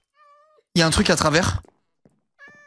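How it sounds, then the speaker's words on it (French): A house cat meows twice, a short thin call before and another after a burst of close French speech, each meow clear and near in an otherwise quiet room. "Ah mais c'est le chat."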